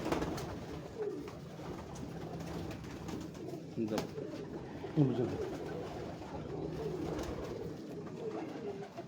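A flock of purebred pigeons coos on a Lahore rooftop, a steady mass of low, overlapping burbling calls close by, with brief moments of human voice mixed in.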